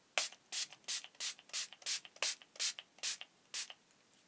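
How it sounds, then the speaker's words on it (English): Makeup setting spray hisses onto a face in about ten quick, evenly spaced pumps, each a short airy burst, close and fairly quiet with no talking. "You give your face a spray over with this and it gives you extra hold to keep your makeup on throughout the day."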